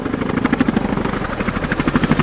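A Boeing Chinook helicopter performs a quick stop during an RAF Cosford airshow display, its twin rotors giving a loud, steady, rapid chopping throb with no talk.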